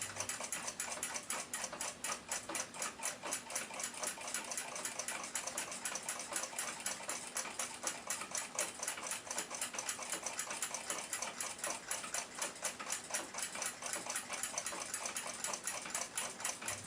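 An 1894 Seth Thomas mantel clock movement, with worn, rusty pallets and a worn pivot that needs a bushing, ticks rapidly and evenly as it runs freely, a steady close-up mechanical chatter with no talk.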